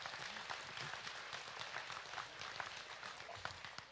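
Faint, steady applause from an audience at a state fair swine show, a dense patter of many hands clapping in a distant, roomy space.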